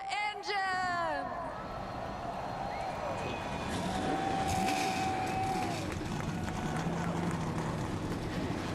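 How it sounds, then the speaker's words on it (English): NASCAR Camping World Truck Series race trucks fire up at Texas Motor Speedway, a loud, dense engine roar spreading over a stadium crowd after a voice over the public address, with whining revs rising through the din. "Drivers, start your engine!"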